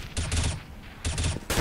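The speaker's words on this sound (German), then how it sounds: "Und 4 Schüsse, das kann Flamey nicht machen" In a Counter-Strike match on de_dust2, two quick bursts of close gunfire rattle out with a short pause between them, and faint game ambience fills the gaps.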